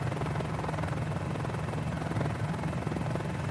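Helicopter in Microsoft Flight Simulator cruising over New York City, heading toward about 100 knots: a loud, unbroken rotor and turbine drone with a fast, even chop, and no voices.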